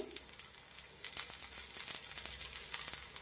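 Rava dosa batter frying in oil on a hot pan gives a steady, close crackling sizzle with fine spitting pops throughout, and no voices.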